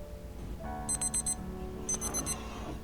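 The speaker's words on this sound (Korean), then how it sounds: "알림을 맞춰놔서 1분 30초 후에는 알람이 울릴 거예요" A baby bottle warmer's small electronic timer beeps in two quick bursts of rapid high-pitched chirps, over a faint steady hum in a quiet room.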